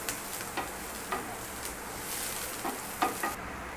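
Vegetable pulao ingredients, including soybeans, fry in a pan with a moderate, continuous sizzle, broken by several sharp stirring taps and scrapes spaced about half a second apart.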